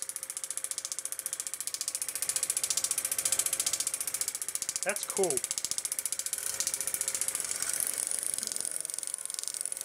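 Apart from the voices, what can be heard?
Super 8 film projector mechanism running backwards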